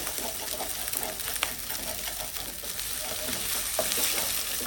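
Egg fries with chopped onion and garlic for chow mein, giving a bright, busy sizzle and a steady crackle. Stirring scrapes pulse through it and it stays close and fairly loud, with no clear talk.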